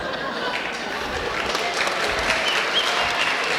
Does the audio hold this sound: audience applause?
yes